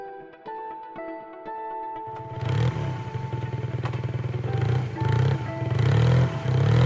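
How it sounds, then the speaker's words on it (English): A motorbike engine bursts in after a few seconds of light musical tones, then runs loud and close with a steady rumbling drone that swells slightly toward the end. "bike,"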